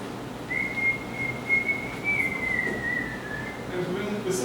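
A caged parrot in a yard whistles a tune from a devotional song, one long sustained wavering whistle over steady outdoor background noise.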